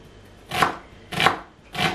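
A kitchen knife chops through onion on a board in three crisp, evenly spaced cuts, close and moderately loud.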